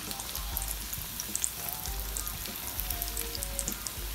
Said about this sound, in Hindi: हमको इसको बहुत देर तक फ्राई नहीं करना है, आपको खाली ये सेवई को फ्राई करना है